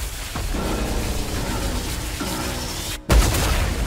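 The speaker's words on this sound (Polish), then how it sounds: "Rozumiem, czyli on wybucha, jak damy self-destruct, okej." A self-destruct explosion in the Fortnite video game, heard as a dense crackling, rumbling stretch of blasts followed by a brief dropout and then a sudden loud boom that keeps roaring.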